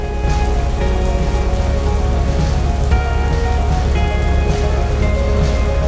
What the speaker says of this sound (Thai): พวกเราคงต้องบอกลาทริปนี้ด้วยสายฝนที่เมือง